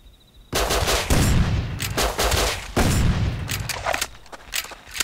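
Rapid bursts of loud gunfire in the video game Rust during a base raid, with several sustained automatic volleys and separate shots cracking close by, with no talking.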